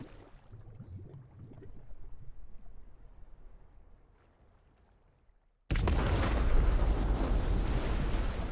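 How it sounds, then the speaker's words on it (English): A nuclear blast in Death Stranding bursts in suddenly as a loud, broad roaring rumble after a quiet stretch of low ambient noise and faint sounds, then holds steady to the end. "that was not much of a nuke"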